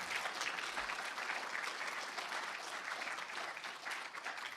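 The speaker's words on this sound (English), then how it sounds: "And let's give a round of applause to Alan Webster." An audience at a programming conference claps for a speaker being introduced, a dense steady round of applause filling the room, loud and continuous for several seconds.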